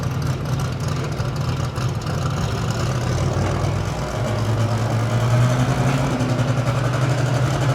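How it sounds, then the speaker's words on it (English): A local tractor engine rumbles steadily at a county fair tractor pull, a loud low continuous drone that holds for several seconds with a slight rise in pitch toward the end. "Local tractor right here, right on the Hardin-Lee County line."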